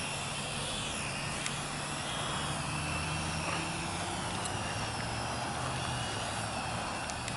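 A small R/C smart drone flies outdoors in strong wind, its steady buzzing motor hum running continuously under heavy broadband wind noise throughout, with no voices.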